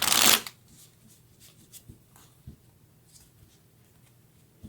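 Tarot cards being shuffled in a quick, loud riffle burst at the start, followed by a few soft scattered taps and card handling sounds in a quiet room.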